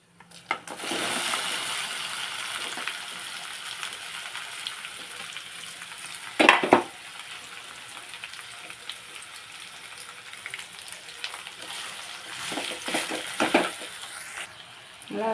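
Okra sizzles and fries in hot oil in a pan, a steady bright crackle with louder bursts as the pieces are stirred, close and continuous with no talking.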